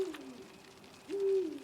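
An owl hoots twice in The Witcher 3 video game, two low hollow calls with a pause between them, clear against a quiet ambient background.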